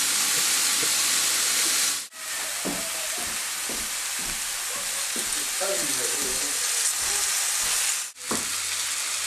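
Grass-fed beef round steak fries in oil on a cooking surface, giving a loud, steady sizzle scattered with small crackles and pops, broken by two brief dropouts.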